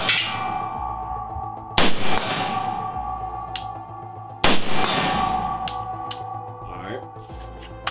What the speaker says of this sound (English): All right, couple shots at 100.